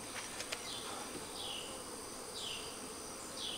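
Bees buzz around a beehive under attack by ants, a faint, steady insect drone with a few brief sharper chirps and clicks over it.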